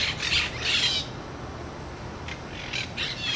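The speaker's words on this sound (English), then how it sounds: "They're a happy bunch of parrots." Wild parrots high in backyard oak trees give a few harsh squawks in two short bursts, separated by a quieter stretch of outdoor background.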